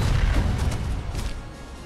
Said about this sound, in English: look at the cannons!